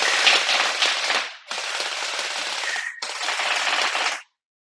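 A custom Anstoy M4A1 gel ball blaster converted to an M4 Stoner Air fires in three long, rapid bursts, a loud crackling rattle of shots close up with short gaps between strings.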